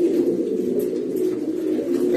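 A racing pigeon coos in a steady, low, throaty murmur, close and continuous for a couple of seconds with no speech.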